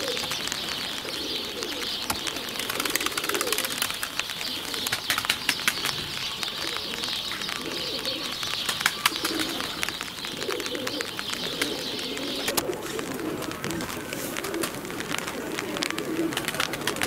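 Pigeons coo in soft, repeated low calls on a windy, rainy day, with wings flapping now and then over a constant wash of wind and rain noise.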